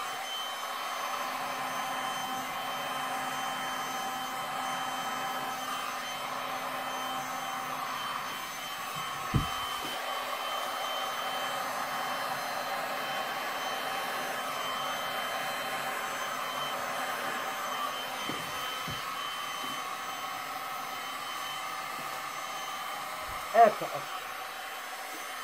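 A heat gun blows steadily on resin being feathered across a lazy susan, a continuous airy hum running throughout with a couple of brief knocks.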